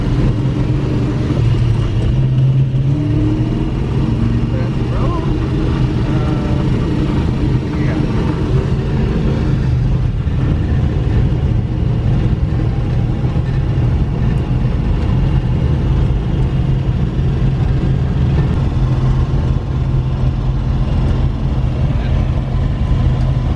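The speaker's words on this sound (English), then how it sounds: "the car is bucking around and it's running extremely lean" Carbureted car engine, freshly re-jetted and running extremely lean, drones loudly and steadily while the car drives and bucks, a low continuous rumble with no pauses.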